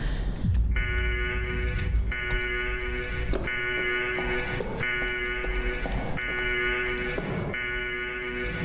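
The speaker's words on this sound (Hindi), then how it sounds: "कोई अलार्म बज रहा है।" An alarm rings in a horror hospital video game, a loud harsh electronic buzzing tone pulsing in regular on-off bursts about every second and a half, with faint background game sounds.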